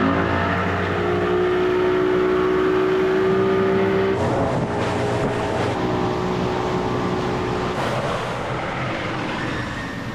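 A boat motor hums steadily and loudly in the foreground off the Florida Keys near Key West sandbars, its pitch holding then shifting slightly, with wind and water noise around it.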